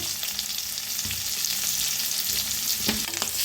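Potatoes fry with turmeric and red chili powder for dhaba-style dum aloo, a constant sizzling hiss with a few stirring scrapes and knocks, close and fairly loud, no voices.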